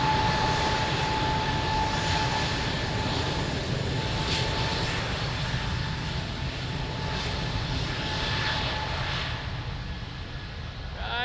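Airliner engines roar steadily during a takeoff roll from runway 02 at Lisbon Airport, a loud continuous jet rumble that holds throughout with a faint tone above it, then eases slightly near the end.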